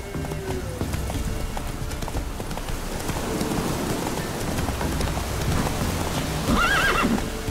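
Horse galloping in The Witcher 3: Wild Hunt: a steady rapid drumming of hooves over a rain-like wash, ending in a loud whinny near the close.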